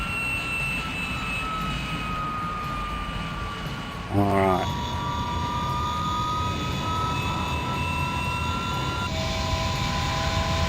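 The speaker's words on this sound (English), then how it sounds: "Now I seem to have kicked both engines on. You can actually hear the difference now." Twin aircraft engines running in Microsoft Flight Simulator on a coastal flight from Ghana to Nigeria: a steady droning hum with whining tones, and a brief rising sweep partway through. A voice speaks a single word over it.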